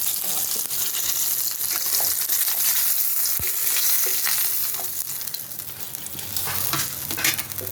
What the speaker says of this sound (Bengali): এখন আমি এই মাছটা কড়াইতে ছেড়ে দেবো, ভালো করে একটু ভেজে নেবো মাছটা